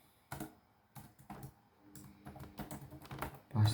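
Quick bursts of typing on a computer keyboard, the keys clattering in uneven runs close by with no voices.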